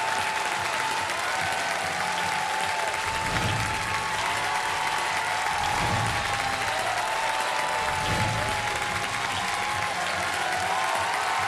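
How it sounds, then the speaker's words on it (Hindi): A studio audience on the Kaun Banega Crorepati set applauds to welcome guests, a dense, sustained wash of clapping that stays loud and even for over ten seconds. "मैं चाहता हूं कि तालियों के साथ स्वागत किया जाए खान सर का"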